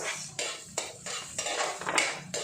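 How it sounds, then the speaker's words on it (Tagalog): Garlic and onion are sautéed in a pan for mung bean stew, with a series of sharp metallic scrapes and clanks of a utensil against the pan over a soft sizzle, no talking. "Ngayon magigisa na ako ng bawang, sibuyas"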